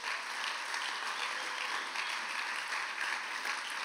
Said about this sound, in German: ich gebe dir einen herzlichen Applaus